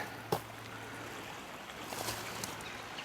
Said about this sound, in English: We got a nice little brook down here.